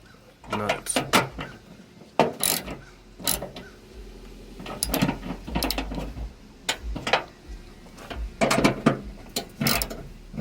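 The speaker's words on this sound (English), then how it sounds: "Just tighten the nuts." Nuts on a Toyota Yaris licence plate being tightened by hand: a series of short, close ratcheting clicks and metallic rattles in uneven bursts, with someone talking in between.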